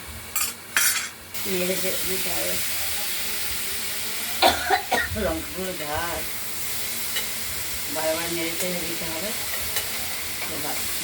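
Thin strips of pumpkin frying in a pan with mustard seed and chilli tempering, stirred again and again; a steady sizzle runs throughout, with occasional scraping and someone speaking over it at intervals.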